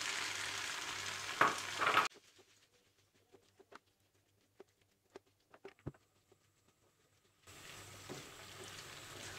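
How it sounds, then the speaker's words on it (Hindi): Sweet corn and chopped capsicum stir-fry in a pan for a chicken sandwich filling, a hissing sizzle at the start and end with a near-silent stretch of scattered small clicks and taps between. "अब इसमें स्वीट कॉर्न और शिमला मिर्च कटी हुई डालकर मिक्स कर लेंगे।"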